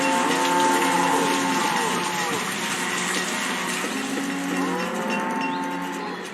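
Cattle in the medieval city-building video game Banished, low drawn-out moos repeating over a constant watery, rushing ambient bed, fairly loud and without talk.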